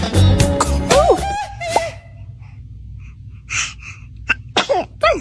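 A baby sneezes several times up close, short sharp bursts separated by quiet pauses, with small squeaky vocal sounds before them.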